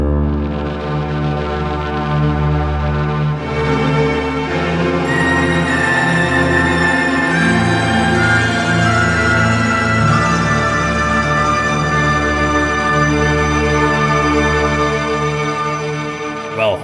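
A layered virtual instrument blending a brass sample, synth strings and a field recording plays a sustained, wide, swelling chord that builds and shifts gradually, loud and continuous with no voice.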